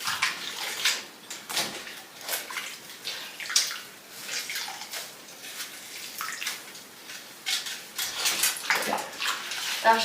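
Water runs and splashes into a sink in uneven, gurgling bursts, close by, with occasional clinks and knocks; no one speaks.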